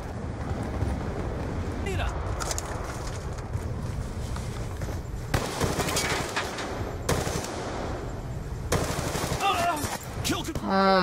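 Gunfire in a Treyarch video game cracks out in several sharp, loud volleys spread across the stretch over constant game noise, with bullets striking a wall and people talking throughout.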